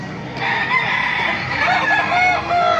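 Chickens cluck and a rooster crows nearby at a market in Baliuag, overlapping calls filling the short stretch with no one talking.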